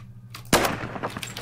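Gunfire in the Phantom Forces shooter game: after a quiet start, a sudden loud burst of shots breaks in and continues as dense, rapid firing with a few sharper cracks toward the end.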